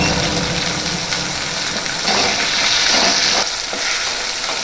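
Tomatoes frying in a hot pan while being stirred, a loud close sizzle with scraping stir strokes that swell and ease, no talk.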